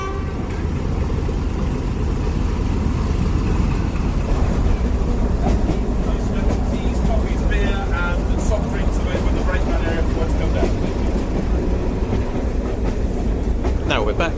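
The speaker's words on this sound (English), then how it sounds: "There's a train coming in." A heritage railway train pulls into a station on the Great Central Railway at Loughborough, with a loud rumbling clatter of wheels and a brief horn-like toot, while people talk nearby.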